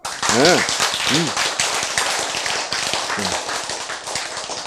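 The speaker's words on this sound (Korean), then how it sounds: "박수 한번 쳐줍시다" An audience at a health lecture breaks into applause, many hands clapping in a dense, steady patter at close range while a few voices speak over it.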